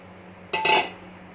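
A metal spatula clinks once against a pan while cooked white rice is stirred into veg fried rice. The sharp clank and its brief ring stand out over a quiet kitchen background.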